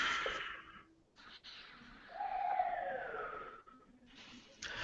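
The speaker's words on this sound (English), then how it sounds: "I like the police siren going off in the background, actually" A police siren wails faintly in the distance, its rising and falling tone drifting under low background noise.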